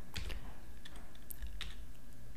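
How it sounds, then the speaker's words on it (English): Quick bursts of keystrokes on a computer keyboard while editing text in the vi editor, close and crisp clicks in an irregular rhythm, with no voice over them. "If I type I and I start typing"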